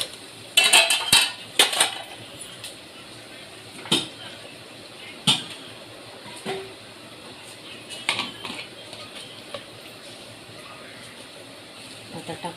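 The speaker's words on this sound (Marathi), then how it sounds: "आता जिरं टाकून घेते." Utensils clink and tap against a pan and spice containers while cumin seeds go in for home-cooked khichdi, scattered sharp metallic knocks spread over several seconds, close by, with someone talking intermittently.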